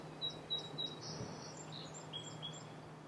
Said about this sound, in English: Right next to me, there's these little birds jumping into a bush.